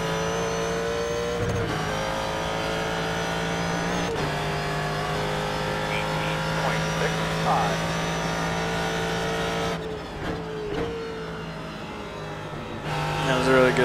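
Ford GT3 race car at Road Atlanta in iRacing, its engine droning loud and steady through the gears with brief lifts and upshifts and light tire squeal, while someone talks over it.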